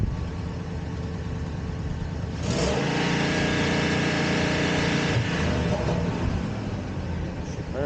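A van's engine, restarted after breaking down outside Chicago, runs steadily at idle with a loud, continuous low rumble that rises slightly in the middle and then settles.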